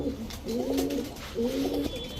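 Giribaz pigeons coo in two drawn-out, throaty phrases close by, with a short gap between them and no talking.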